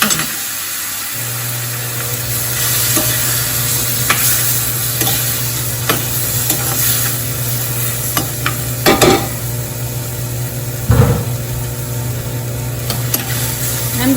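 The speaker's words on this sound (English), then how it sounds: "So here goes 2 roughly chopped tomatoes and their juice." Roughly chopped tomatoes and their juice go into a hot pan, giving a steady sizzle with stirring scrapes and small clinks, close by, with no talking.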